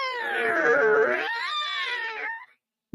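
Electric guitar pinch harmonics squealing in a high, wailing, vocal-like bend that sustains for about two and a half seconds, loud and close, followed by silence and a short thump.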